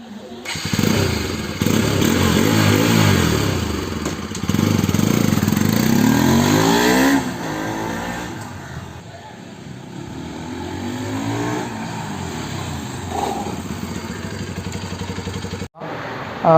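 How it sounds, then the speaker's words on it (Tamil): A Bajaj NS 200 motorcycle engine, just refitted, runs steadily up close, its tone rising and falling as it revs, loud throughout before cutting off near the end. "இன்ஜின் சவுண்டும் ஸ்மூத்தாக இருக்குது."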